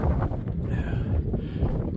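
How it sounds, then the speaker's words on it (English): Wind on an open mountain top along the Appalachian Trail, a steady rushing gust with heavy buffeting against the microphone and faint whistling, heard alone. "You can hear the wind starting to pick up."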